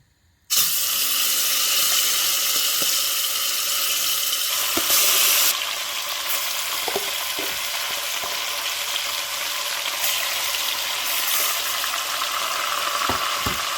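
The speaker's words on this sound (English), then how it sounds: "I'm going to go ahead and add our chicken to the oil" Steady, loud sizzling of chicken pieces dropped into hot oil, starting abruptly and continuing with crackles and pops, no talking.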